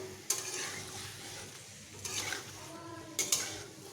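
Potato and papaya chunks being stir-fried with spices for a vegetarian dalna, with soft continuous sizzling and three sharp scraping bursts of a spatula against the pan.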